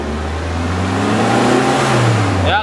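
A 2012 Mitsubishi T120ss pickup engine revving up close, with a steady rising drone and a smooth climb in pitch held for a couple of seconds.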